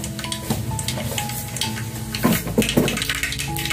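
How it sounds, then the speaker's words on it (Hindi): A small amount of mustard seeds dropped into hot oil for an aloo baingan curry, giving a steady sizzle and crackle with light clinks of a pan and spoon, close and continuous. "मेरा तेल जो है गर्म हो चुका है। अब उसमें ये राई के दाने डाल रहे हैं थोड़े से"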